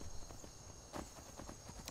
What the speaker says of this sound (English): We have obviously made the transition to Shadowmere as our mount.